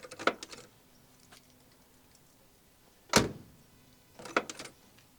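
Door hinges on an old Chevrolet Nova swinging open and shut, giving a few short creaking, clunking bursts near the start, in the middle and toward the end, with quiet gaps between them and no talk.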